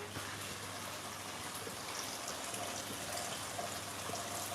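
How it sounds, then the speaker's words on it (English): Hot water poured off from a cooking pot in a home kitchen while preparing southern chicken, a steady close splashing trickle running alone for the whole stretch without talk. "want to drain off our water because it's heated back up again nicely"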